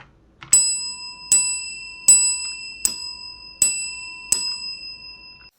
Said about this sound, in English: Thanks to the analog terminal bell,